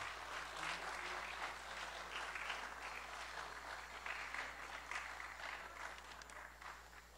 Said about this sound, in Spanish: Un fuerte aplauso para don Eulalio Guadamuz.